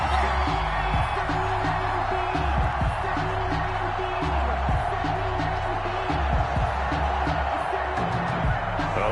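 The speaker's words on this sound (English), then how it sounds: "this crowd does not like that call" A stadium crowd at an Eagles football game reacts to a penalty flag on third down with a dense, steady roar and scattered shouts, heard under continuous commentary.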